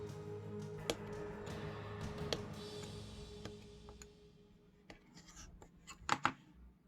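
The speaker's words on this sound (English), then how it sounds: "So I just use the scalpel to cut the plastic cards." A scalpel scores a plastic card for a DeLorean Turismo front splitter with faint scratchy strokes and a few ticks, quiet and close, ending in a cluster of sharper clicks as the card snaps.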